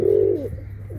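A caged pigeon at a pigeon sale gives a close, low, throaty coo that lasts about half a second, with a faint second murmur after it and steady background noise.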